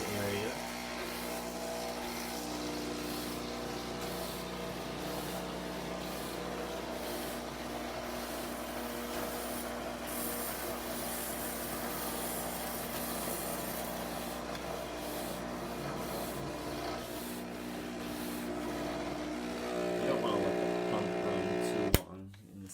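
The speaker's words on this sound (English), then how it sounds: "And there you can see it spraying there, so you're going to want to spray an area." A Bissell Big Green deep cleaning machine sprays and works carpet with a steady motorized whir and hiss, continuous and fairly close, rising at the end.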